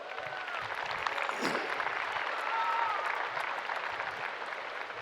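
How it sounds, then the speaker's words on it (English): Graduation crowd applauding at an outdoor high school commencement in a stadium, a broad, distant wash of clapping that holds steady throughout, with faint whistles and crowd noise mixed in. "Give yourselves a round of applause"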